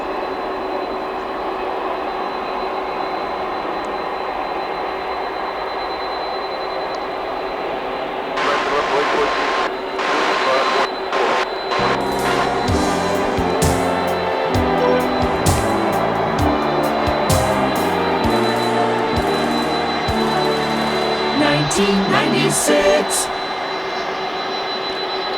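A UPS Boeing 767 cargo jet landing at DFW produces a steady jet roar with a high whine that swells midway. Rumbling and clattering rise in the second half, then the sound settles back to a constant hum.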